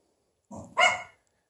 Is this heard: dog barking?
yes